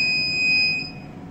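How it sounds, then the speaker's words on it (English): Steady electronic alarm tone from a mobile traffic robot signalling a yellow light, a single continuous high beep held for over a second with low background noise beneath. "for the yellow light, it's a sound that there's an alarm or something, or lookout"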